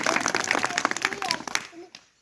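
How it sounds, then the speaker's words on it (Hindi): A class gives brief clapping for a Class 3 student who has just recited a poem, a scattered burst of claps over about a second and a half under overlapping voices, then fading out. "तालियां बजा दिया करो।"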